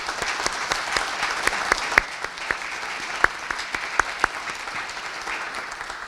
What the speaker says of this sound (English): Please join me in a round of applause for their generosity and commitment.